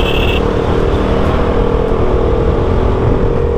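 A motorcycle ridden along a road in India, its engine droning steadily at close range with constant wind and road rumble, no talk.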